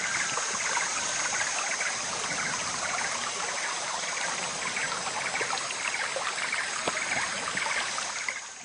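A stream in the South Asian wild flows steadily, a dense unbroken rush and hiss of moving water with faint trickles and splashes, close and even for the whole stretch.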